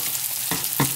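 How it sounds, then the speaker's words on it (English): Ravioli frying in hot oil until crispy, a steady close sizzle with two brief stirring clatters near the end. "We're just gonna fry them until they get crispy"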